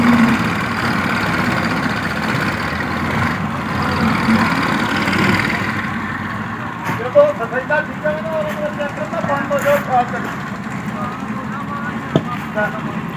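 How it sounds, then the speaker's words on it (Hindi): A tractor engine drones steadily while towing down a eucalyptus tree, loud and continuous at first, then easing into a rougher, knocking idle with people talking throughout. "टोचन किया है ट्रैक्टर के साथ, ये आगे ट्रैक्टर खींच रहा है"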